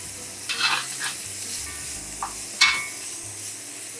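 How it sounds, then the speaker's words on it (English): Onions and minced garlic stir-frying in a hot wok at 375 degrees for chicken chow mein, a steady sizzle broken by a few sharp scraping stirs of the spatula, close and clear without talk. "I'm now going to do the vegetables, starting with the onions, the minced garlic"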